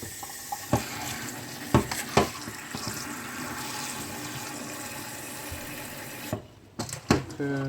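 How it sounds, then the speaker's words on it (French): Water is added to a pot of cut vegetables, a splashing pour with clunks and knocks of the pot and utensils, fairly close, in a quiet kitchen. "On va rajouter de l'eau."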